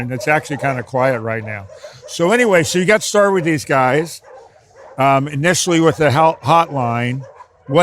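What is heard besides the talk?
None of the usual background noises is heard.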